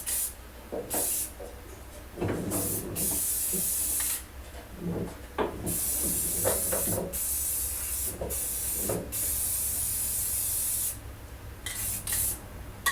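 A spray can of Tremclad clear gloss paint hisses in repeated short and longer bursts as a snowthrower auger gets a light coat, close and crisp, with faint handling knocks in the pauses.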